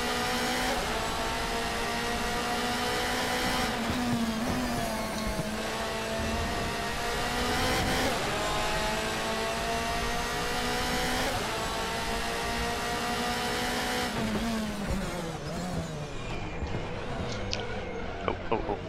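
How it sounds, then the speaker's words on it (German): Race car engine in the DTM Experience racing game at Hockenheim, a steady loud mid-pitched engine drone with shifting revs and a drop as the car overbrakes and slows, continuous throughout with talk over it. "Da habe ich das Auto gerade eindeutig überbremst."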